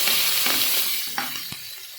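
Curry leaves sizzling in hot oil in a pan for jeera rice, a loud steady crackle and hiss with a few small pops and stirring sounds, close by and without talk.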